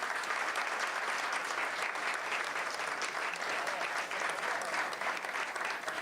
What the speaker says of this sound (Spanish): Brindamos nuevamente un muy fuerte aplauso entonces